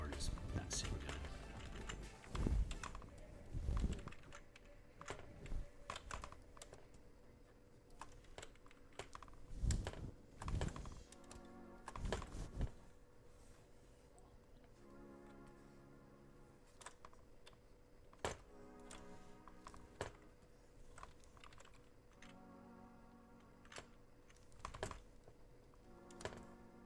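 Typing on a so-so computer keyboard: irregular bursts of close, sharp key clicks with scattered louder taps and short pauses, and someone talking in places between the keystrokes.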